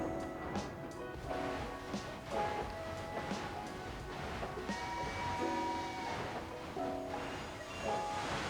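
In the Locomoto video game, a train rumbles along with a rhythmic clatter over the rails, while soft tonal horn-like notes and chimes sound in sequence at a moderate, steady level.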